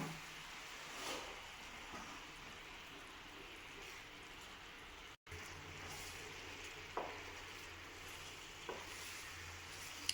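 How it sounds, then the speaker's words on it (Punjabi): Jaggery melting in a pan for chickpea gachak is stirred continuously, a soft steady sizzle with occasional faint spoon scrapes and taps against the metal; quiet and close, with no voices. "ਨਾਲ ਦੀ ਨਾਲ ਆਪਾਂ ਇਹਨੂੰ ਹਿਲਾਉਂਦੇ ਰਹਿਣਾ ਮਤਲਬ ਥੱਲੇ ਨਹੀਂ ਜੰਮਣ ਦੇਣਾ"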